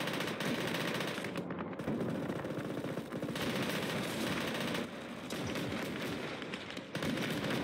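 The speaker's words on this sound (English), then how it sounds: "Load that machine gun, please." Machine gun fire in Gates of Hell: Ostfront, during the defense of Voronezh, comes as continuous, dense automatic bursts layered with other gunfire and battle noise, with only brief dips before it resumes.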